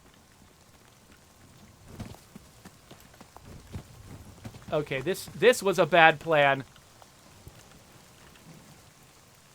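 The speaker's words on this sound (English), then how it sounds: "It's starting to rain more." Rain patters softly and steadily across a game world in The Cycle: Frontier, with low rumbles and light footsteps beneath it, while someone speaks briefly over the top.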